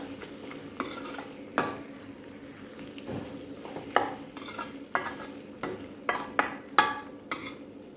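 Potatoes with a tempering of spices are stirred in a pan, giving repeated scraping, clinking spatula strokes in an irregular rhythm over a low, steady sizzle, close and alone without talk.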